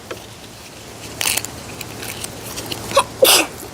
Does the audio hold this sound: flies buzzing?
no